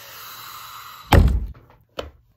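A chair is kicked indoors, producing one solid close thump followed by a lighter knock a moment later, then quiet.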